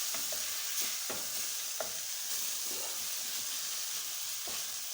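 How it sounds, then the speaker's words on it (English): Tomatoes and spices fry in a pot for a goat stew, with a steady broad sizzle and several distinct scraping strokes of a spoon stirring at irregular intervals, close and clear with no talking. "Give it a good stir to ensure that they blend in and combine"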